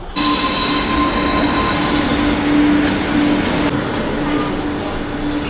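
A metro train running steadily, with a loud continuous rumble and a persistent tonal whine throughout, with people talking over it.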